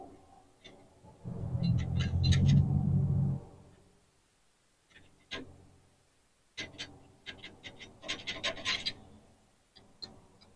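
Short metallic scraping and clicking bursts come from a hand tool working on paint-covered bolts of a John Deere 401C, starting with a louder rasping stretch and then breaking into quieter intermittent scrapes and taps close by.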